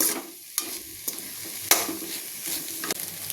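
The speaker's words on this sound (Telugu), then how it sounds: "తోటకూర బాగా మగ్గిపోయాక ఉడకబెట్టుకున్న రైస్ వేసుకొని కలిపేసుకోవాలి." Amaranth leaves mixed with boiled rice are stirred in a frying pan, giving a steady soft sizzle with scraping spoon strokes every second or so, close and alone with no talk.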